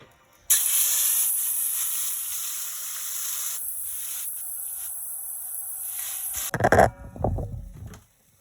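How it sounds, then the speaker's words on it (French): Jollof rice sauce poured into already heated oil, bursting into a loud steady hiss and sizzle that holds for several seconds before clattering stir sounds at the end. "je vais pouvoir verser ça dans mon huile déjà chauffée"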